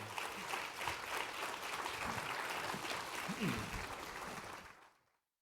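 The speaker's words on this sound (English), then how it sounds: "Can we give another round of applause to Drs. Miles and Bailey" Sustained audience applause at an academic conference plenary session, dense clapping from a large crowd that carries on for several seconds and then tapers off into silence, with voices faintly mixed in.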